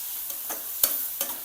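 Chopped tomatoes being sautéed in a pan for a peanut curry, with a soft steady sizzle broken by three or four scraping stir strokes close by.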